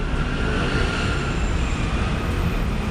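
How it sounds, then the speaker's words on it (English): A broad, steady rumble with a faint high whine fills the clip as a Macau Light Rapid Transit train rolls past nearby on an elevated line, with no talking. "There's our light rail train."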